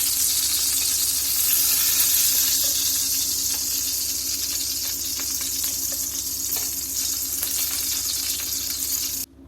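Chicken tikka sausages fry in a pan with a steady, close sizzle and hiss that continues unbroken, with a few faint clinks of stirring over it and no talk.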